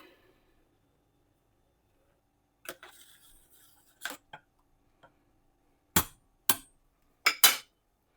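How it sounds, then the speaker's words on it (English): A spoon stirs dal with turmeric and salt in a pot, giving a few sharp, isolated metallic clinks and taps, each separated by near silence, close and clear. "And give this a mix."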